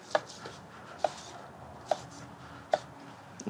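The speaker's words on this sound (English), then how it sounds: "So we wanna cut against the grain. So that's what I'm gonna do here. I'm just gonna cut down." A knife cuts down through a medium rare steak against the grain onto a board. Four or five crisp, evenly spaced taps land about once a second, clear and close, with no talk.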